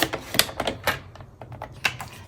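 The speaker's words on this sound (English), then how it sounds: "So I'm going to cut this at 5 1/4." A paper trimmer or cutter slicing card stock for a handmade card, a run of sharp, quiet clicks and scrapes in an uneven rhythm close by, with no talking.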